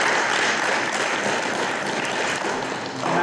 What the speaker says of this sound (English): How about a round of applause for all of those students?